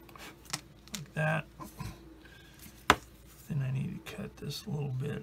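Sprue is snipped off a plastic part of a Tamiya 1/48 F-51D Mustang model kit, one sharp, close click among small handling noises while someone talks throughout.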